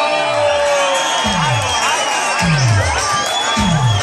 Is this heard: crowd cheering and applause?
yes